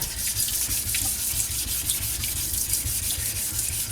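A sharpening stone is lapped with wet, gritty back-and-forth rubbing strokes in a quick, steady rhythm, close and fairly loud.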